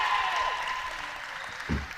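Spectators at a university netball match between Gloucestershire and Hertfordshire applauding a goal, a continuous patter of clapping at moderate volume that slowly fades, with a brief thump near the end.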